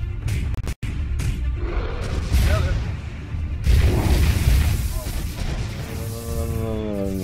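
Volley of missiles launched in the video game M.A.S.S. Builder, dense booming rumble and whooshing blasts layered over a continuous game soundtrack, loud and close, with a person talking over it.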